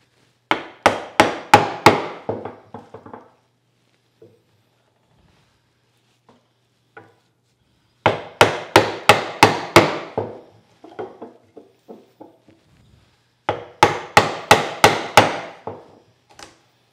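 A chisel is struck to chop a hand-cut mortise in wood, giving three close bursts of sharp, rapid mallet blows, five or six knocks each, separated by quiet pauses with a few faint taps.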